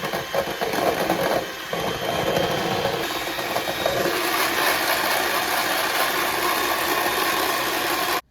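Electric hand mixer whipping cream in a cold bowl toward soft peaks, a steady close motor whine running without pause for several seconds, then cutting off abruptly at the end.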